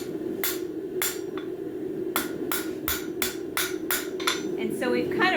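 A hammer strikes hot metal on an anvil's front face while a bird feeder hanger is forged. About eight sharp ringing blows fall at uneven intervals over a steady background hum.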